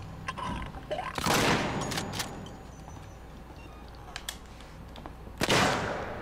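Gunfire in the survival horror game Alien: Isolation, with two loud bursts of shots about four seconds apart and scattered smaller cracks between them, over a low ambient background.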